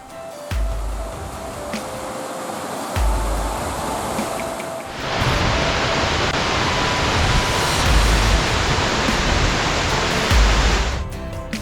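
Steady broadband rush of a waterfall heard from a viewpoint near Scenic Point on a mountain trail, a constant roaring wash that swells louder about halfway through and holds to the end, with no voices.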